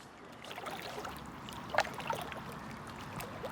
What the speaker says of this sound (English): While Bill and Ashley paddle away in the boat